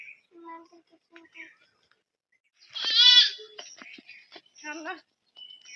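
Young goat kids bleat in short harmonic calls on a rooftop, one loud wavering cry near the middle followed by several quicker bleats and faint calls, with no talking over them.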